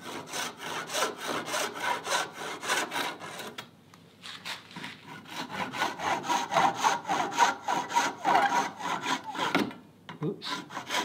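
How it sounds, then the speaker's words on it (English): A hand saw cuts the corner off a piece of wood held in a vise, with steady rhythmic back-and-forth strokes, a short pause midway, then resumed sawing close and clear. "then just cut this corner off"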